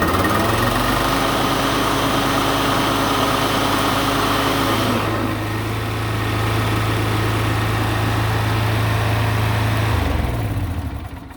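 A Toro Timemaster walk-behind lawn mower runs with its blades engaged, giving a loud, steady engine drone and whirring blade hum close by for the whole stretch, with a slight shift in pitch midway and no talking.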